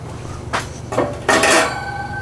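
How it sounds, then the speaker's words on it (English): A metal grill grate for a PK cooker is set back in place with three separate clanks, the last one the loudest and ringing briefly, close by with no talk. "Get our grate back on here."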